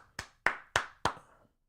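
Four sharp hand claps ring out in a quick, even rhythm, close and clear, with a short decay after each and no talk.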